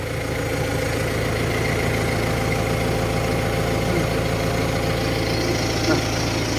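A tractor's engine idles steadily throughout, a continuous low rumble with even vibration, heard from the seat in the cab, with no change in pace.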